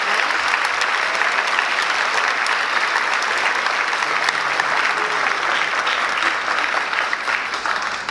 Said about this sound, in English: So let's give everybody who supported these students a big round of applause.